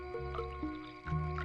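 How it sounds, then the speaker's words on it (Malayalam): Water pours in short gurgling, squishy bursts, as if splashing into a vessel, close and moderately quiet. "വെള്ളം ഒഴിയടാ."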